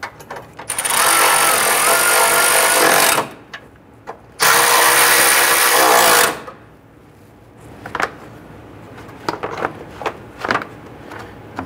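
Power tool driving bolts on the cooling fan bracket of a 1994-2004 Ford Mustang: two sustained, loud whirring bursts of a few seconds each, followed by quieter clicks and handling noises.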